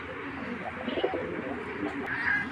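Sapchila pigeons, a pair kept by a breeder, cooing softly at close range in a few low, murmuring phrases over steady background noise, with a brief higher chirp near the end.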